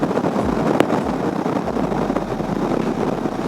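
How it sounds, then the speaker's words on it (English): Wind noise inside a motorcycle helmet while riding a 2017 Suzuki V-Strom 650 with a Givi Airflow screen beside an open farm field: a loud, continuous low rumbling buffet with a steady broadband roar. "So I got a bit of wind noise in the helmet"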